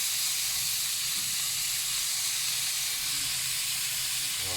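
Shrimp skewers for a fish dish hit a hot cooking surface and sizzle with a steady, close hiss that holds evenly throughout, without any talk.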